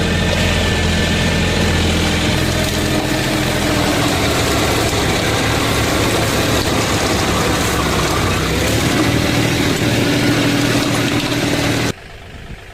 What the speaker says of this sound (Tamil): பாருங்க என்ன நடத்திட்டு ஓடுது வண்டியை.